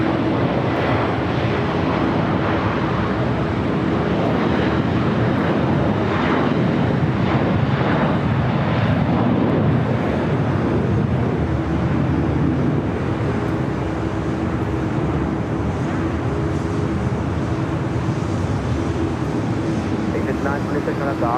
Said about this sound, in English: American Airlines flight 1138 heading to Charlotte's. A321 now rolling down 25 right